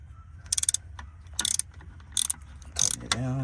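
Ratchet wrench tightening the starter bolt on a 2008 Chevy 2500 HD diesel, four quick bursts of sharp clicking at close range separated by short pauses.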